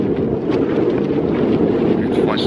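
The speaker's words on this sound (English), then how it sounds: "It's very, very windy." Strong, gusty wind buffets the microphone in a steady, loud roar across the whole stretch, with no let-up, outdoors beside a car on an Australian road trip.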